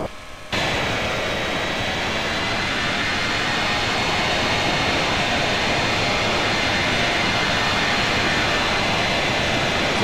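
From outside, a PMDG Boeing 737-800 in a flight simulator gives a steady, loud jet engine roar with a high whine on top. It cuts in abruptly after a brief quiet start and holds constant.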